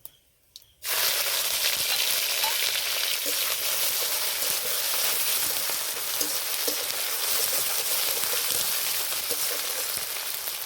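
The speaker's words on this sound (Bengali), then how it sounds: "এইবার দিয়ে দেব থেতো করা সব মশলাগুলো" Crushed spices hit hot oil for a vegetarian potato curry, setting off a loud, steady sizzle that starts abruptly after a moment of quiet and keeps frying evenly throughout with no talking.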